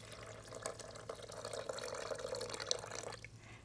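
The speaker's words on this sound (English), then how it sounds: "And then I'm going to put in my 3 cups of water." Three cups of water poured into a blender jar while making pasta night dishes, a steady soft splashing stream running for a few seconds and ending abruptly, quiet and close.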